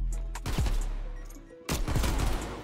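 Gunfire in the video game Black Ops Cold War, two loud bursts of rapid shots in quick succession, each followed by a short ringing decay, with a low rumble in between.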